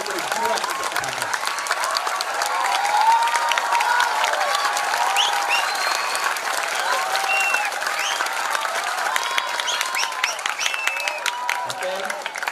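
Sustained applause from an audience at a PKB political rally, dense steady clapping with some cheering voices mixed in, loud throughout.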